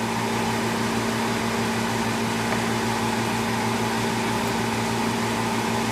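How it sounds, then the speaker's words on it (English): A steady mechanical whirring hum of an exhaust fan running continuously, with a constant low drone and broadband airy noise, no voices. "I'm going to go ahead and turn on my exhaust"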